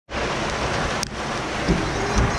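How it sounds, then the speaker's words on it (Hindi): Heavy rain pours in a dense, constant hiss near Shivanasamudra falls by a foggy mountain, close and loud, with a couple of faint thumps underneath. "नेचुरली बारिश हो रही"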